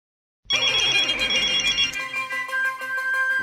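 A telephone rings loudly with a bright electronic ringtone, a rapid trilling pattern starting abruptly and then shifting to a steadier repeating tone, alone with no talk.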